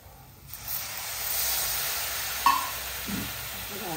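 Onion and tomato frying with masala in a pan, a steady close sizzle and hiss with faint stirring and a soft clink partway through, no voices.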